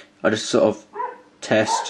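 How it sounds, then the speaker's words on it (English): A pet dog barks in short excited bursts, two quick yaps followed by a softer whine and another bark, close and loud, with a voice speaking briefly over the start. "that's my dog going crazy"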